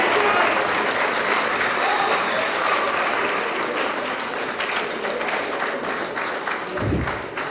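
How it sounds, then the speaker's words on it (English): A civics bee audience gives a big round of applause for the League of Women Voters, sustained dense clapping from a full room that holds steady for several seconds before tapering slightly. "why don't we give a big round of applause to the League of Women Voters for making this happen tonight"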